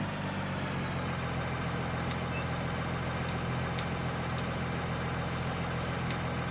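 Tractor ploughing a field in Farming Simulator 19, a steady low engine drone running continuously with no letup and no talk.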